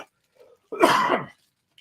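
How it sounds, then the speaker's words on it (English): A single harsh cough from an adult recovering from a cold, close and moderately loud, with silence around it. "I do still have a pretty good cough that I'm dealing with."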